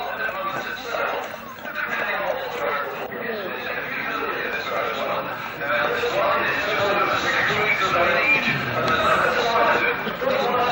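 A Shire horse at the National Shire Horse Centre in Yealmpton, Devon, neighs amid crowd chatter, with people talking throughout and the whinnies mixed into the general hubbub.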